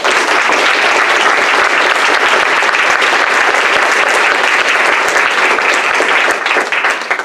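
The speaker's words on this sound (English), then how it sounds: "let's give them a round of applause" Loud, close applause from the audience at a Sequim Port Commissioner District 3 candidates forum, many hands clapping steadily for several seconds before tapering off at the end.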